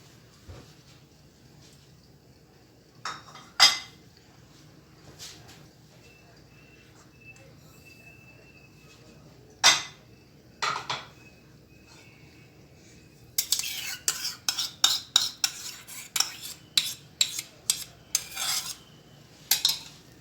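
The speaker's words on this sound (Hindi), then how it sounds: "इसके अंदर सारी चीज़ें हम मिक्स करते जाएंगे।" Ingredients for cheese bread dough are mixed in a bowl, heard first as a few scattered metallic clinks, then a rapid series of spoon clatters against the bowl near the end, close and fairly quiet.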